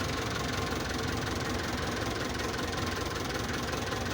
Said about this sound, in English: Time for the tractor to pull it this side now.